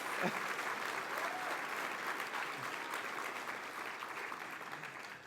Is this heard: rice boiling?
no